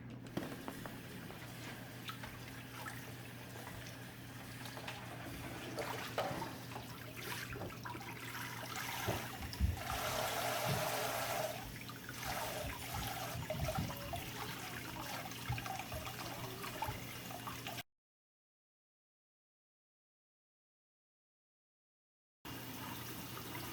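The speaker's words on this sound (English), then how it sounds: "and then we'll rinse them real good and put them back in." Aquarium rocks and artificial plants rinsed under running tap water, a steady continuous splashing stream with small clatters, close and moderately loud, cutting out near the end before resuming.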